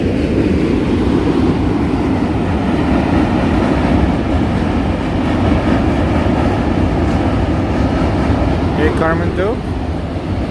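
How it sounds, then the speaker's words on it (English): A subway train rumbles loudly and continuously near the Manhattan Bridge on the Lower East Side, a dense low roar with rattling wheels filling the whole stretch, and a brief squeal rising near the end. "This is another subway train right there."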